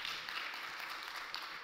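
Audience applause fills a conference hall at a digital business summit, a steady, dense wash of many hands clapping at even loudness throughout, with no voices standing out.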